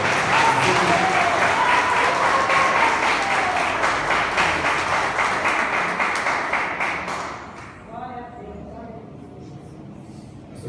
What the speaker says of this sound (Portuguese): Aplaude o Senhor bem forte.